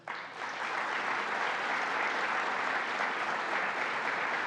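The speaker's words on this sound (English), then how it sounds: "Now let's give a round of applause to our Secretary of State, Robert Rodriguez." An audience applauds a Secretary of State named Robert Rodriguez at a New York State executive budget announcement in Central New York. The clapping is steady, dense and sustained, rising quickly and continuing evenly throughout.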